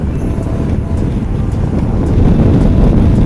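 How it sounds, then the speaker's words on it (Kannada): Strong monsoon wind buffets the microphone in a continuous low roar, growing louder toward the end, with no voices, during a bike ride near a waterfall. "ಸಿಕ್ಕಾಪಟ್ಟೆ ಗಾಳಿ ಇದೆ"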